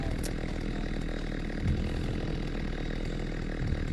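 A chainsaw in The Walking Dead: Saints and Sinners game buzzes continuously at a steady moderate level, with a faint knock or two and no voices.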